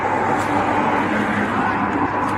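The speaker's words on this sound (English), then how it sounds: "I can't hear because of the cars." Roadside traffic during a police stop makes a continuous, loud rushing roar of passing cars that fills the whole moment without a break.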